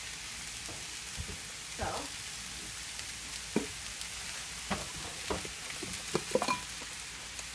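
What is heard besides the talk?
peppers and onion frying in a pan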